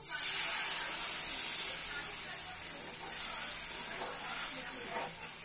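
Kadhi batter poured into a pan of fried spices for Punjabi kadhi pakoda, giving a loud steady sizzling hiss that eases slightly and then holds for several seconds.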